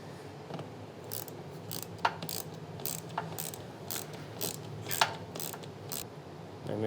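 Ratchet tightening a fitting down into the plastic housing of a third brake light on a 2014-2018 Silverado or Sierra truck, a series of crisp, evenly spaced clicks, close and alone.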